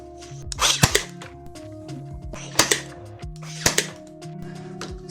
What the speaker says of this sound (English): I got the nail gun, why not?